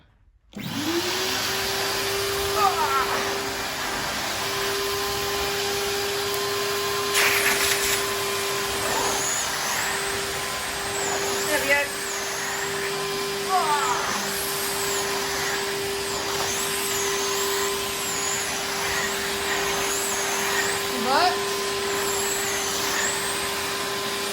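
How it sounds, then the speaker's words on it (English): A Numatic George GVE370 vacuum cleaner switches on and hoovers a carpet, its loud steady motor drone overlaid with periodic suction swishes and rattles as the head is pushed back and forth. "I'll just show you some hoovering with this George"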